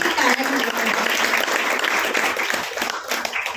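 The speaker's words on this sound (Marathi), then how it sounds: "त्यांच्यासाठी टाळ्या वाजवा" An audience at a rural skills-development and employment guidance event applauds for Neetaben Patel. The steady clapping fades slightly toward the end, with a faint voice beneath it.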